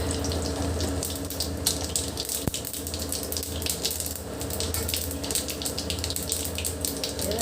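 Bay leaf and dried red chili crackle in hot oil as a tempering for a thin fish-head curry, giving a close, dense and steady sizzle that runs without a break and has no voices over it.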